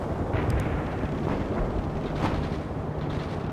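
Rumbling explosions of incoming enemy fire in the real-time strategy game World in Conflict, a dense continuous roar with a few sharper distant blasts rising out of it and no talk.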